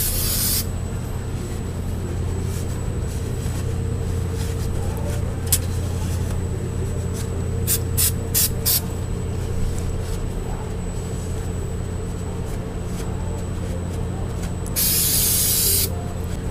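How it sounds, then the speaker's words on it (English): Brake cleaner sprays in one loud, sharp hissing burst near the end, cleaning the surface of an engine oil pan during an oil pan spacer and skid plate install, over a steady low hum in a garage, with no talking. "Now we're just going to come back with some brake clean"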